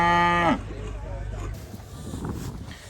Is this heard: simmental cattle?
yes